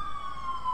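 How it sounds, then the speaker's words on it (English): A Federal Q siren on a new Montgomery County fire truck gives a steady, slowly falling mechanical wail, heard briefly and faintly from some distance. "And nice Q siren as well, too."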